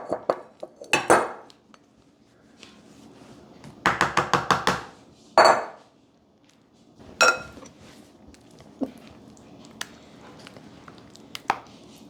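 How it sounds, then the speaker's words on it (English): A spatula scrapes homemade meat sauce out of a pan for lasagna, heard as several close bursts of metallic scraping and clinking separated by quiet gaps. "Here's where a spatula comes in handy to get it all scraped down."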